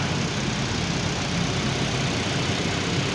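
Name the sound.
Mitsubishi Xpander car engine idling after jump start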